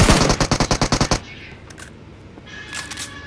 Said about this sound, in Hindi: बॉट फायर कर रहा है।